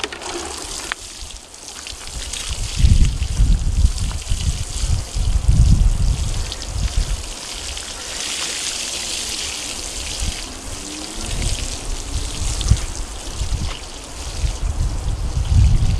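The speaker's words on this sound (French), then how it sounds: "Et je vais vous faire voir comment j'arrose" An 11-litre watering can pours onto outdoor tomato plants in a steady splashing trickle with rushing surges, close and fairly loud, with no talking.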